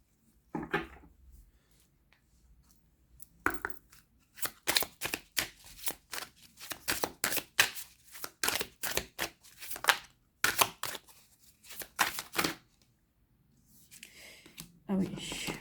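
Médéor oracle cards are shuffled for a reading in a series of quick, crisp riffling bursts, close and fairly quiet, with short pauses between them and no talking.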